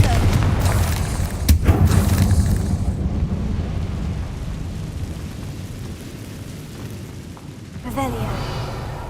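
A Confringo blasting curse bursts in a Harry Potter video game, a loud, booming low rumble that swells early and slowly fades into a long decay, with a smaller thud near the end.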